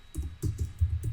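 Keys tap on a computer keyboard in a few soft, quick clicks spaced irregularly, close and fairly quiet, with no voice over them.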